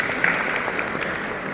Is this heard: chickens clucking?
no